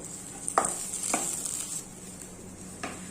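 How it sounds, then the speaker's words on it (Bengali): Potato filling being scraped out of a wok with a spatula, a few distinct metallic scrapes and knocks over a faint steady sizzle, close and moderately quiet. "তো এখন আমি আলুর পুরটা নামিয়ে নিচ্ছি"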